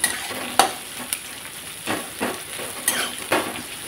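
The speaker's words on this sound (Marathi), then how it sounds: "छान आता कांदा भाजून घेऊया" Onion and chillies fry in a pan with a continuous close sizzle, broken by several sharp scraping stirs of a utensil against the metal.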